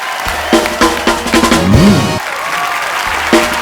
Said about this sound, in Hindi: हर्ष और सैमी के लिए जोरदार तालियां।